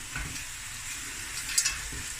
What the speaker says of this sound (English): Two to 3 cups of cooked rice, and now we're just gonna stir fry